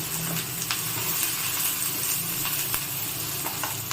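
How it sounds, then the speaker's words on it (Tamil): Steady sizzling of green chilli, ginger and curry leaves sautéing in a pan, with occasional light clicks of stirring over a constant hiss. "பச்சை மிளகாய், இஞ்சி, கருவேப்பிலை போட்டு நல்லா வதக்கி விடலாம்."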